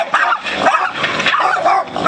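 Several dogs barking excitedly at a visitor in a workshop, loud and close, with rapid overlapping barks and yips in quick succession.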